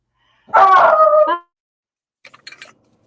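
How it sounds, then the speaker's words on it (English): One drawn-out dog howl or yelp up close, then a pause and a few faint, quick yips further off. "Oh, I got dogs barking."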